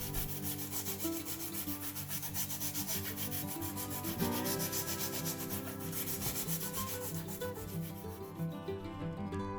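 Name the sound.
sanding cured Mohawk epoxy putty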